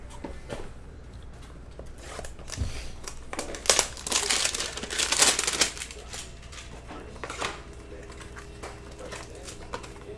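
Foil hanger packs of 2018-19 Panini Chronicles basketball cards are ripped open up close, with crinkling and tearing that builds into a dense, loud burst of crumpling in the middle before settling into lighter rustles.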